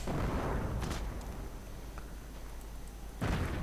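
Mortar rounds firing at a Flak 88 position in a World War II strategy game, with loud booming blasts at the start and again near the end and a rumbling lull between.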